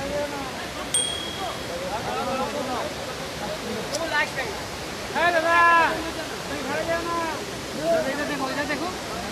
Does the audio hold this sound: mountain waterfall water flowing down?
yes